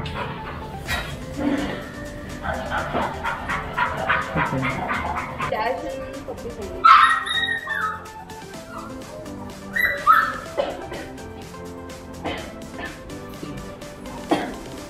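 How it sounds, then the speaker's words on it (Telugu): Golden retriever puppies yip and whimper in short bursts, close by in a pet store, mixed with a few small barks and some background voices. "ఇవి వచ్చేసి గోల్డెన్ రిట్రీవర్ పప్పీస్."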